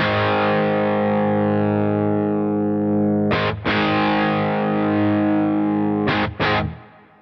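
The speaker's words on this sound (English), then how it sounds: "now I'm going to crank the gain on the amp up a little bit. So let's see what that sounds like on its own." An electric guitar with a fuzz pedal plays through a cranked Orange Terror Stamp amp, thick distorted sustained chords ringing out, briefly cut twice, then fading.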